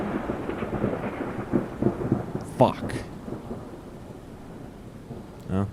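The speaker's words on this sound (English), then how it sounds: "can you guys hear the rain?" Rain falls steadily through a storm while low thunder rumbles beneath it. Someone talks and swears briefly over the downpour.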